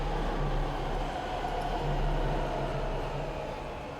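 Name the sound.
tram ride in Dead Space video game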